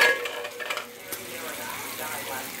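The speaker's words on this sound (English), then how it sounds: "Butter and your mushrooms. You're going to saute them." Butter and mushrooms sautéing in a pan for breakfast, a soft sizzle under a few utensil scrapes and stirring clinks that fade after the first second.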